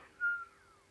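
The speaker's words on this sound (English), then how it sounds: "I did not mean that whistle, it was an instinct." A person whistles once, a short clear tone that slides downward and fades, close and alone over faint background.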